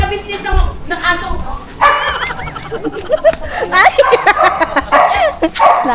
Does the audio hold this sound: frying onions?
no